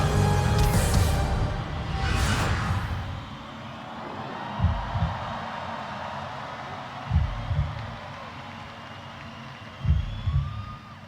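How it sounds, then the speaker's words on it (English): A slow, deep heartbeat pulses alone in a symphonic metal song, after a dense, loud orchestral passage fades out, with soft paired thumps arriving every few seconds over a low hum. "We've dropped down to a heartbeat."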